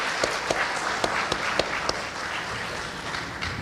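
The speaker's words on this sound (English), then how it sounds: "A big round of applause for Radhika ji." Audience applause at a Bharatanatyam arangetram, honoring a performer named Radhika ji: a steady wash of clapping from a hall full of people, with a few sharper individual claps standing out near the front.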